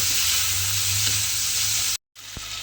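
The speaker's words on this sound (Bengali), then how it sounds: "জাস্ট একটু হালকা করে মাছটাকে এইভাবে একটু ভেজে নিতে হবে।" Prawns fry lightly in a pan for a bottle gourd and prawn curry, giving a steady, close sizzle that cuts out briefly near the end before resuming.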